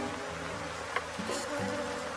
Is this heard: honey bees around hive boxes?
yes